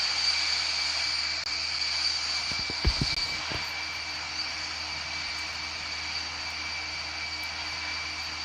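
Airliner jet engines run at takeoff thrust in the Infinite Flight simulator game. A continuous, even engine roar with a thin high whine holds steady, with a few brief low thumps partway through.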